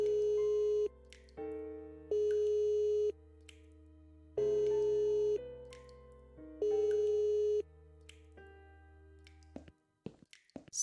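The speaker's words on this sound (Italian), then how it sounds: "Campanello." A doorbell in The Cat Lady video game sounds as repeated electronic tonal chimes, several clear sustained rings separated by short gaps, fairly loud and alone, ending in a few faint knocks.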